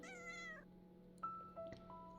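A cat meows in the cozy witch-themed video game Little Witch in the Woods, one clear, drawn-out meow followed by soft chirpy trills and faint game tones, quiet and close.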